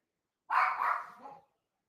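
A single short, fairly close dog bark that trails off into a brief whine.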